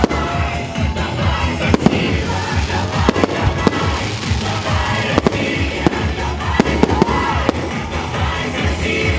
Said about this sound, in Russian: Торжественная часть на главной сцене завершилась праздничным салютом.